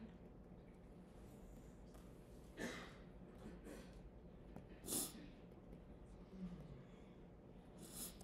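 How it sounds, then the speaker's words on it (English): Indoor lecture-room sniffles from a person with allergies: a few short, quiet nasal sniffs scattered among faint room noise, one slightly sharper than the others. "I'm sorry to be sniffling so much"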